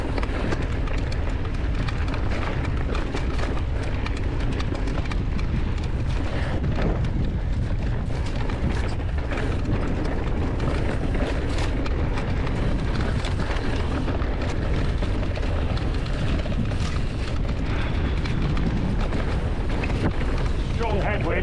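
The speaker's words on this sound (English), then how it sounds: "Strong headwind." Strong headwind roaring across the microphone on a mountain bike trail in Alicante, a steady, loud broadband buffeting that persists for the whole stretch without letup.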